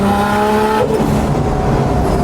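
A 1989 Nissan Silvia S13 drift car's engine revs loud and close under light throttle, with the tone holding and then dropping into a rougher idle-like rumble, with no talking.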